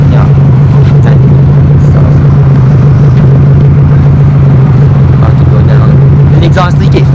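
A Subaru with an aftermarket exhaust idles close by in the snow, its steady, loud, deep engine drone unbroken throughout, with a recently fixed exhaust leak. Voices murmur faintly over it.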